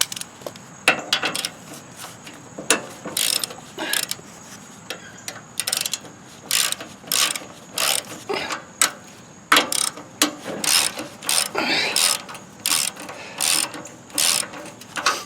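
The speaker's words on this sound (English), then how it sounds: "Maybe we can loosen these while we're here." A ratchet wrench loosens bolts on a lawn tractor transmission, giving repeated bursts of quick clicking strokes close to the listener, with short pauses between each run of clicks.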